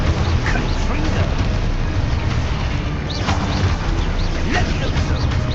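Confringo fire spells burst in Hogwarts Legacy combat: loud, dense booms and crackling blasts over a constant roar of battle noise, with a few sharper impacts standing out.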